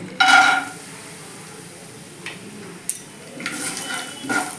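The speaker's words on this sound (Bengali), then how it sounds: "এবার এই তেলের মধ্যে প্রথমে আমি কিছুটা চিনে বাদাম ভেজে নেব" Peanuts fry in hot white oil in a wok: one clattering scrape of the spatula at the start, then a soft steady sizzle with a few faint scrapes and taps, and a brighter hiss building near the end.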